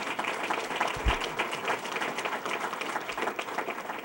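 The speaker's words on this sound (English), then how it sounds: "Let's give them a round of applause." An audience at a Rochester Institute of Technology trustee meeting in Rochester gives a round of applause, a dense, even wash of many hands clapping at moderate volume with a slight thump near the middle and no voices on top.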